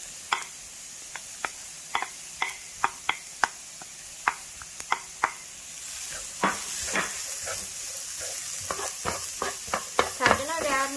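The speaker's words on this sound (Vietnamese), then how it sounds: "cho củ sắn vào đây xào trước" Grated jicama is stir-fried in a hot pan for a savory rice cake filling. A constant sizzle runs under a run of sharp utensil scrapes and taps against the pan, growing busier toward the end, with no talk.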